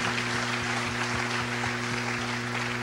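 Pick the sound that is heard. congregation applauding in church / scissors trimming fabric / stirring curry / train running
congregation applauding in church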